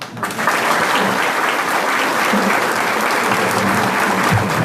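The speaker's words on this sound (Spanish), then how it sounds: "Fuertes los aplausos para el doctor Baltasar Garzón Real" A seminar audience in Tarija gives Baltasar Garzón a loud, sustained ovation, thick even clapping from a large crowd that starts almost at once and holds steady.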